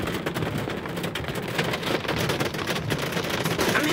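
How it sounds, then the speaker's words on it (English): Steady rain falls nearby as a dense, even hiss that holds at a constant level for the whole stretch, with no voices heard. "I hope you can hear me over the sound of the rain that just kind of appeared."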